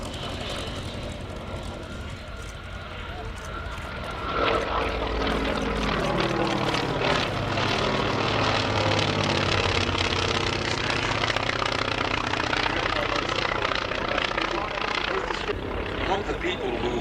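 A Polikarpov I-16 propeller fighter flies at the Flying Legends airshow at Duxford, its engine drone swelling loud from about four seconds on with a shifting pitch as it passes overhead, and voices faintly audible underneath.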